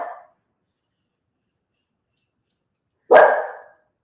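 A pet dog barks indoors, with one sharp close bark at the start and another loud bark about three seconds later, separated by silence.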